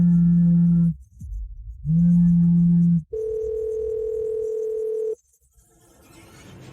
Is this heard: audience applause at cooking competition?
no